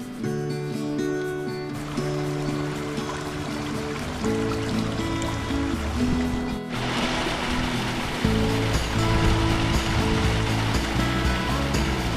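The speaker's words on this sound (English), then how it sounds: "Beautiful little river flowing under a bridge." A small river in the Peak District, UK, flows under a bridge with a steady, full rushing and burbling wash that stays close and continuous, overlaid by sustained tonal music.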